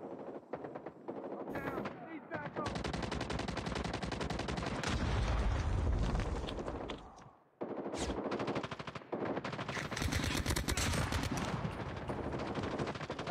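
Rapid automatic gunfire rattles in loud, sustained bursts from a Call of Duty Mobile match, with a brief lull before the shooting resumes, while players talk over the action.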